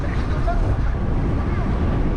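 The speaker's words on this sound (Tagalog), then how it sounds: "kaya pala malakas yung hangin eh." Strong wind gusts across an open hillside by the Pililla wind turbines in Rizal, a steady loud rumbling roar buffeting the microphone throughout with no break.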